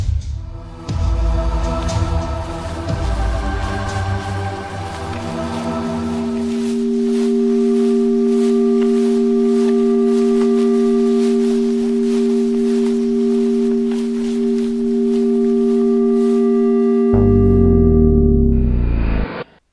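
Electronic sound effects: sustained synthetic tones and chirps layered over a low throbbing, with a fluttering texture and a brief louder burst near the end.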